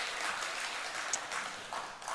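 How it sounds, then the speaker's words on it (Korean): A church congregation claps at an autumn revival service after a poem is read aloud. The applause is a dense, even patter that continues for a couple of seconds and stays moderately soft throughout. "주로 이렇게 시를 읽고 나면 박수들을 치더라고요."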